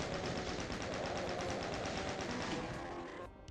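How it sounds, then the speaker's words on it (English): The chain gun firing in the original DOOM, a rapid, even stream of repeated shots at a steady rhythm for about three seconds before stopping. "I decided just to unload on them with the chain gun"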